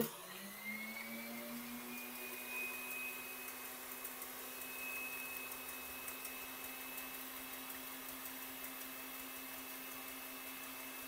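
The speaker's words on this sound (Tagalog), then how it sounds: "Start na nating i-mix yung ating egg white, high speed." An electric mixer runs steadily at high speed, whipping egg whites for meringue candy, giving a constant whining hum with a tone that rises slightly as it begins and then holds.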